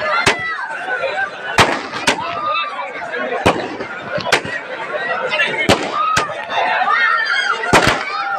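Firecrackers burst in sharp, loud cracks at irregular intervals before a state-level kabaddi final match, over a noisy outdoor crowd and a commentator talking.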